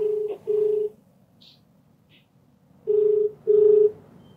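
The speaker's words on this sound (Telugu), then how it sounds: "అయితే నేను కాల్ చేస్తానండి, మీకు సస్పెన్స్ ఎందుకు" A telephone is dialed to place a call: short, clear keypad tones, two near the start and two more after a pause, alone in a quiet room with no talk.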